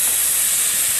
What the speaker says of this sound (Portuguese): Vou mostrar para vocês a pressão que pegou a panela aqui agora.